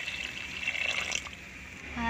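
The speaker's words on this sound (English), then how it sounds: "Add water." Water is poured into a pot of beef soup, a brief steady splashing trickle heard close up for about two seconds.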